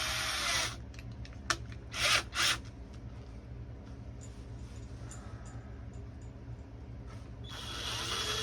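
A power drill used as a boring tool whirs steadily at close range, with a few short louder bursts of grinding as the bit bites, then runs on evenly.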